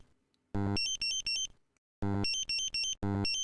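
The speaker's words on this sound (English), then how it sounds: "In an underrange alarm in which the measuring range is not reached, the audible, visual and vibration alarms are repeated." Dräger X-am 2500 multi-gas detector sounding its underrange alarm: two loud bursts of rapid electronic beeps, each a rising run of shrill tones separated by a brief pause, with no voices.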